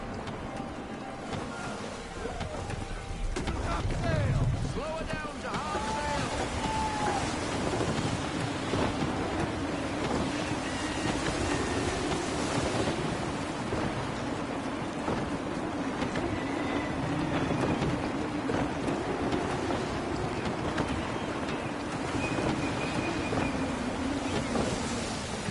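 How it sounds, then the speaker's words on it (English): Gusty wind sweeps over the open sea in Assassin's Creed 3 as a continuous loud rush mixed with wave wash and creaking from a sailing ship, with faint voices. "Wind looks to be shifting. Stay alert, Connor. Gusty winds can be difficult to manage."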